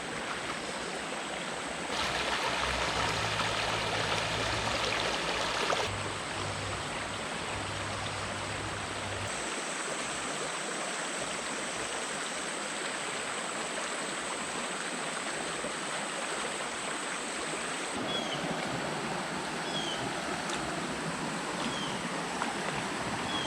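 Creek water flows steadily near an abandoned bridge, making a continuous close rushing wash with no talking.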